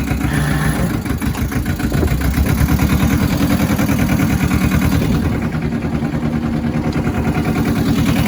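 A Suzue M1503 Japanese compact tractor engine running in a higher gear, a loud, close diesel chug with a fast, even pulsing beat that holds steady throughout, no talk.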